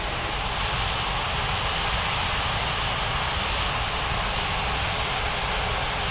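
An airliner taxis toward the runway at Ngurah Rai Bali International in Unmatched Air Traffic Control, a steady, loud jet engine roar holding without a break throughout.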